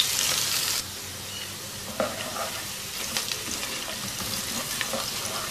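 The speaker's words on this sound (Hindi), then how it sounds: "2-3 मिनट इस प्याज को फ्राई करेंगे।" Chopped onion fries in oil, a close, steady sizzle with occasional stirring clinks and scrapes; it starts louder, then settles into a softer crackle.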